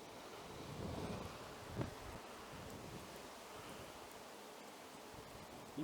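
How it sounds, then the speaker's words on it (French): Storm wind buffets steadily in a street setting, a broad faint rushing roar with a slight swell and a brief gust, no voices. "Il pousse le vent."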